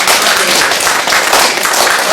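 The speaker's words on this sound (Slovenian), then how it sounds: "Dajmo en aplavz." Loud, continuous applause rises from a church congregation, many hands clapping together at close range without pause.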